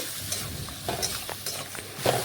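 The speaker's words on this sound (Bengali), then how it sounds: "নাড়াচাড়া করে ভালোভাবে ঝিঙের সাথে মিশিয়ে ঝিঙে একটু রান্না করে নিচ্ছি।" Ridge gourd seasoned with salt and green chilli paste is stirred in a pan, soft sizzling under a handful of brief scraping strokes, close but fairly quiet.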